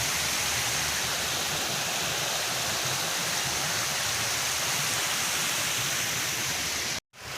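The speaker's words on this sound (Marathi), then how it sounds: "पूर्ण वावरात पाणी उतरत आहे हे बघा हा जो नाला आहे" Continuous broadband rush of floodwater flowing fast through a field drain after a cloudburst, steady and loud like a swollen stream or overflowing channel, with no voices, cutting off briefly at the end.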